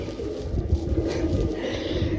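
Old-breed desi pigeons coo softly and repeatedly at close range, low throaty calls rolling continuously with no voices over them.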